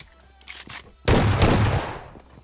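A shotgun goes off in Battlegrounds Mobile as a single loud, close blast with a decaying tail, preceded by faint rustling and footsteps.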